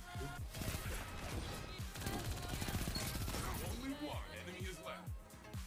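Rapid submachine gun fire from the raid SMG in Destiny 2: Witch Queen, a dense stream of shots with crashes and impacts, steady and loud throughout with a voice faintly mixed in.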